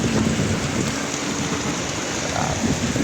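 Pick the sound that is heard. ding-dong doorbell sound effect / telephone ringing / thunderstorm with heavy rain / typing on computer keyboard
thunderstorm with heavy rain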